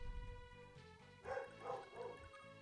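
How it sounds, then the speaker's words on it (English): A dog indoors reacting to fireworks outside, giving three short yipping barks in a row, faint and somewhat distant beneath a steady background hum of game music. "So my dog hates it, because she can probably hear the fireworks going off."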